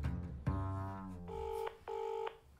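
Telephone keypad dialing tones: two sustained steady DTMF beeps, each under half a second, following a brief voice-like sound at the start, clear and close with no talk over them.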